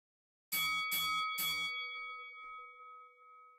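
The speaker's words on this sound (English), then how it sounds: "And there's the bell." Wrestling ring bell in a Second Life virtual world match, struck three times in quick succession, loud and close, with a long metallic ring that slowly fades out after the last strike.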